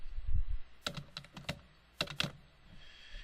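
Rapid keystrokes on a computer keyboard while a project name is entered into a CAD title block: a few short clusters of crisp clicks, close and fairly quiet, with no talking.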